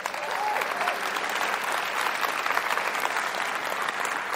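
Applause from an audience at a gathering of a secular student alliance group, a dense, steady clapping crowd that holds loud and even throughout without talk over it.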